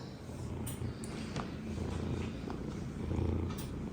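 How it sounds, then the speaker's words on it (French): A steady, rumbling purr from a cat very close up, continuous and low, with faint rustles now and then. "Ça ronronne."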